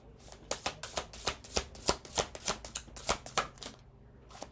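Oracle cards are shuffled by hand in quick, rhythmic bursts of riffling flutter, about a dozen crisp strokes close up, followed by a short pause and one more riffle.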